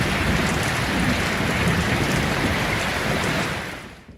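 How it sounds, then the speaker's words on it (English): Steady rain falling on an awning outside a camper at a travellers' roadside stop, a dense continuous hiss of drops pattering on the surface close by, even and unbroken before tapering off at the end. "It's just starting to rain."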